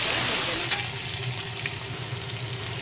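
Tomato dropped into hot oil in a pan hisses with a steady, bright sizzle that slowly eases, close up with faint clinks.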